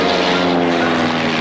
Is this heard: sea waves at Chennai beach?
no